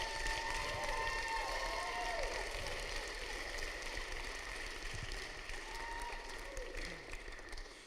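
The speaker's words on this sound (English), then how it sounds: "So if you wouldn't mind giving her a round of applause" Wedding guests give sustained applause mixed with some cheering, a dense steady clatter of many hands throughout that slowly tapers toward the end.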